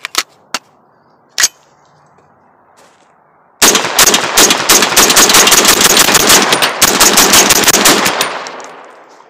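Several isolated clicks come first, then an AR-15 rifle fires a long rapid string of loud, close shots of Hornady VMAX and Barnes copper rounds, tapering into a short echoing tail.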